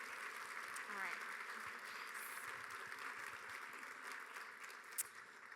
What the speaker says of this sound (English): if we can all just give them one more round of applause